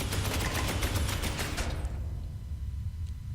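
A Space Marine's weapon in Space Hulk Ascension fires a sustained rapid burst of loud, dense shots that stops abruptly partway through, leaving a low rumbling hum.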